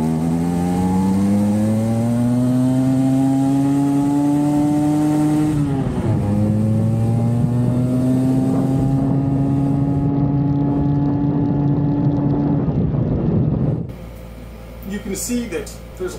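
Vespa scooter with an SI carburettor, its float passage just drilled out, running steadily on a test ride, the engine tone climbing and shifting through gear changes for about fourteen seconds, loud and close, before cutting to quieter background noise.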